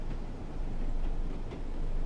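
A Class 101 diesel multiple unit coasting into a station in a train driving game: a steady, continuous rumble of wheels and running noise, loud and unbroken, with no talk.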